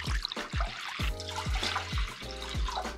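About 750 millilitres of water poured for a miso hot pot broth, a close, steady glugging stream with rhythmic bubbly pulses as the vessel fills.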